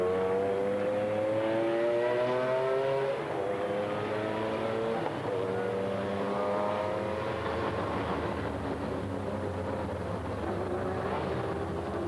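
Race cars at the 2001 Le Mans 24 Hours pass through Arnage one after another, with loud engine notes rising and falling in pitch as each car sweeps by and a steady roar carrying throughout.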